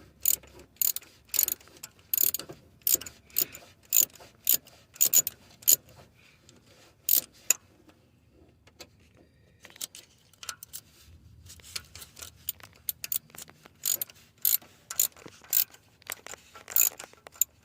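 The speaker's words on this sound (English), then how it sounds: "So we continue tightening this." Ratchet with a 10mm socket tightening thermostat housing bolts on a 2005 Honda Civic DX, crisp close clicking in quick rhythmic bursts, a quieter pause in the middle, then more rapid runs of clicks.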